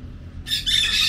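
Birds squawk at ancient ruins, a sudden loud, harsh burst of calls that starts abruptly and carries on close by.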